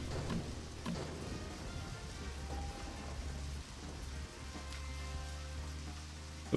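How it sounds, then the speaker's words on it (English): Rain from the video game Deadly Premonition falls in a steady, hissing wash with a low rumble underneath, faint and continuous throughout, with a few brief clicks over it. "It must be the rain sound in the game."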